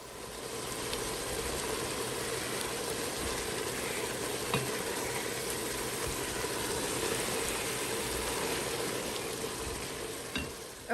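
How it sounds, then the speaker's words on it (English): Onions, garlic and tomatoes simmer in a pot over medium heat for potato soup, giving a steady, soft, continuous bubbling hiss with faint pops and no voices. "we're gonna let this simmer on medium heat for 4 to 6 minutes"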